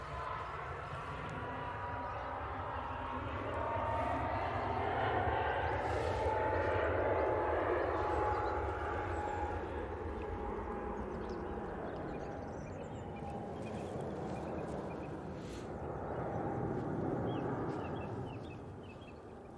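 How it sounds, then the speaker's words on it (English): Etihad Airbus A321neo jet taking off from Manchester Airport, a broad steady engine roar that builds and swells over about twenty seconds with slowly shifting tones, heard from a distance with no talk. "A321neo on the roll."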